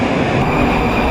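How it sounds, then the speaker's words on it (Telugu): A Moscow metro train arriving at a station, a loud steady rumble of the carriages close by, with no voices. "మన మెట్రో వస్తుంది"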